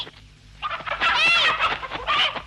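A chicken in an animated children's cartoon clucks loudly and close, a run of excited, broken squawks rising in the middle and tapering off, with no talking.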